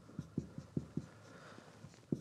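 Chalk or marker tapping and scratching on a board while writing algebra, a quick run of five soft strokes followed by a pause and two more, close but quiet.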